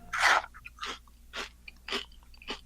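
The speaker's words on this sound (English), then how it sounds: "Sound like he's eating corn chips or something." Someone loudly crunching and chewing corn chips or nuts close by, about five distinct crunchy bites spaced roughly half a second apart, with no other sound between them.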